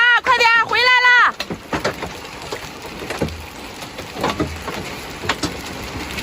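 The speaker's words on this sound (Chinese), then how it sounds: "这是下的这么大的冰雹，看见没有？" Large hailstones the size of pigeon eggs pelt a parked vehicle with solar panels in Wenquan County, making a dense, irregular clatter of sharp impacts that follows a brief voice at the start.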